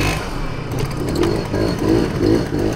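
A 1993 MBK Booster scooter engine runs steadily just after starting, a close, continuous buzzing drone with slight rises in revs and no talk over it.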